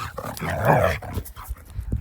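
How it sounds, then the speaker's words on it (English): Dogs growl and grumble while playing at close range in short, rough bursts, with a quick pant or two mixed in. "The dogs are having a bit of a"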